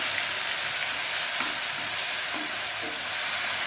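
Spice masala with turmeric frying in hot oil in a pan, a loud dense sizzle held steady throughout, with faint stirring clicks now and then.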